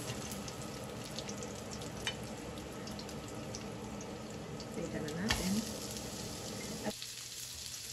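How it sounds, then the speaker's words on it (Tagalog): Garlic and onion sizzle with pork in a hot pan, a steady dense frying crackle throughout with occasional clinks of stirring, while a voice speaks briefly over it. "nilagay ko na itong bawang at sibuyas. At piniprito-prito ko lang, hinalo ko na sa pork"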